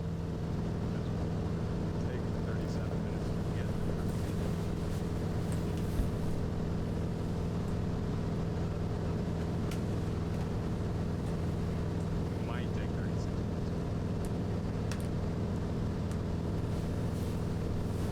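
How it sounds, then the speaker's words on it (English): Steady propeller airplane engine drone in flight, a constant low-pitched hum with a broad whooshing wash above it that holds level and unbroken throughout, like a cabin view from inside the aircraft. "enjoy the sounds of the propeller"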